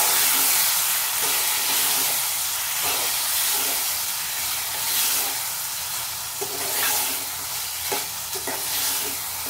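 Brinjal and tomato curry with chilli and salt is stirred in a hot pan, giving a continuous close sizzle and hiss broken by soft scraping strokes of the spoon, with no voices.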